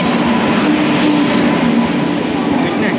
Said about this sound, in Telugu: సో ఇప్పుడు వస్తుంది ట్రైన్, ఈస్ట్ కోస్ట్ ఎక్స్ప్రెస్